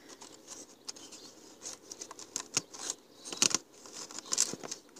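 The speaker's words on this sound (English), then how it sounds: "We'll just trim it off." Scissors trim the liner of a hanging basket, making a series of crisp snipping cuts that come irregularly and grow louder and closer together toward the end.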